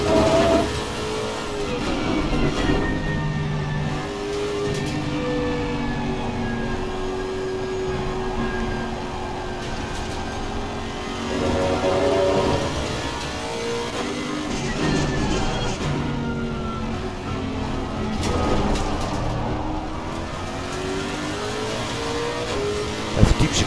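Lexus RC F GT3 race car in the Assetto Corsa Competizione racing game: a steady, loud engine drone that rises and falls through gear changes and corners over more than twenty seconds, with no voices.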